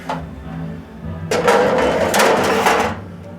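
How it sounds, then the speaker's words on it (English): Metal ash pan of a Glenwood Baseheater No. 2 coal stove slid back into place, a brief quiet rattle and then a loud scraping metallic rush lasting about two seconds at close range. "I better put the ash pan back in there"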